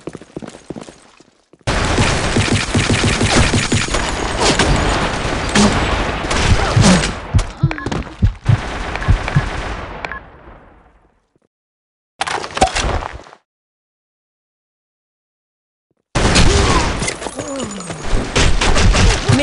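Rapid gunfire from a video game shooter, loud bursts of sustained shots for about ten seconds, then a short burst after a silent gap, and another dense volley at the end.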